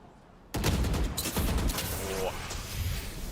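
Gunfire in a Valorant pro match between PRX and FNC at Masters Toronto. It begins with a sudden loud burst after a quiet moment, then continues as rapid rattling volleys mixed with a caster's excited commentary.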